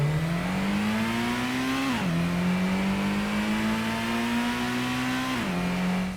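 A car engine revs hard in the 1997 Gran Turismo video game, its steady droning note climbing in pitch and dropping sharply twice as it shifts gears, loud and continuous with no talk.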